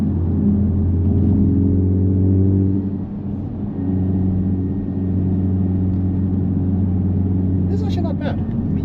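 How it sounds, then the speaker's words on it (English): Steady low engine drone fills the cabin of a 2025 Honda Civic Type R while driving, with strong low harmonic bands that hold constant and dip slightly after a few seconds, plus a brief higher rattle near the end. "There's a little bit of droning,"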